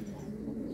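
Pigeons coo at their coops in a low, soft, continuous throaty murmur, close by and unbroken for the short moment.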